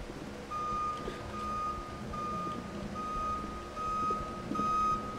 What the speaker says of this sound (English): Can someone turn off the fire alarm?